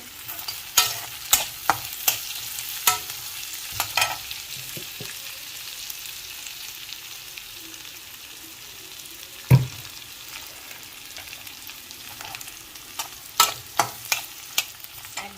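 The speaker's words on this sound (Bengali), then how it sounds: "মুরগিগুলো ভাজতে ভাজতে পেঁয়াজটাও আরও ভাজা ভাজা হয়ে যাবে" Onions sizzle steadily in a hot pan before chicken is added, with a spoon or spatula scraping and stirring at irregular intervals, close up and without talk.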